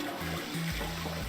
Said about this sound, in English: Alright, let's flush the hot water. Well, there it goes.